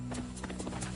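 A cartoon horse's hooves clip-clop in a quick, light run of beats, faint and alone over a brief moment.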